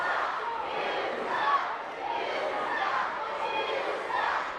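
At an ECPW wrestling show in 2019, a large crowd jeers and yells at the wrestler Lincoln Steen in a steady, dense roar of shouting voices that swells and falls without a break.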